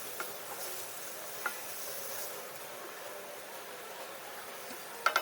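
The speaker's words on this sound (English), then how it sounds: "we're going to fry the mince for at least 1 whole minute" Minced meat frying in a pan for Goan croquettes, a soft steady sizzle with faint stirring scrapes and a few sharper clicks near the end, no talk.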